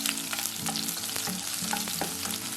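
Five sliced shallots stir-fried in a pan for a Kerala-style tomato curry, a dense continuous sizzle with rapid scraping strokes of a spoon against the pan, close and alone.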